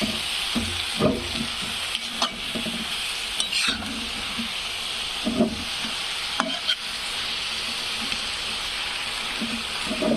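Fenugreek leaves cooking with garlic in a pan, a continuous loud sizzle with intermittent scraping and stirring knocks throughout.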